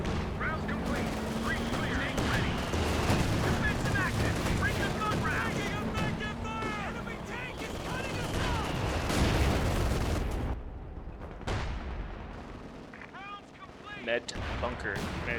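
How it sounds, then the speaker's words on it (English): Flak Panther anti-aircraft fire in Company of Heroes 2 rattles out as dense repeated bursts mixed with explosions and battle noise, continuous for most of the stretch before thinning near the end, while a voice talks over it. "Yeah, Flak Panther doing pretty good damage."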